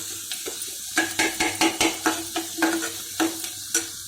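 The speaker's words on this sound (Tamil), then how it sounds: "கருவேப்பிலை சேர்த்து நல்லா ஒரு முறை வெங்காயத்தை நல்லா கலந்து கொடுத்துடலாம்" Curry leaves and onions being sautéed in a pan are stirred with a spoon, producing repeated scraping clatters at an irregular rhythm over a steady sizzle, close and moderately loud.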